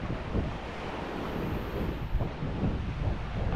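Waves wash and splash continuously along the sea shore at Playa del Carmen, a steady close rush of surf mixed with wind buffeting the microphone, with no voices.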